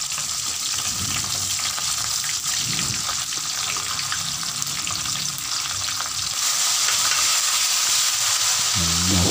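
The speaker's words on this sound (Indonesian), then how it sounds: "tumis dulu cabai hijau agar tidak langu lah" Green chilies sauté in hot oil in a pan, just after fish was fried, while preparing mackerel with green chili sambal. The sizzle is steady and close, with a strong hiss and occasional stirring clatter and no talk.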